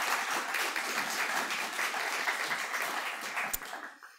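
A room of listeners at a university inaugural lecture gives a round of applause, steady dense clapping that fades out toward the end.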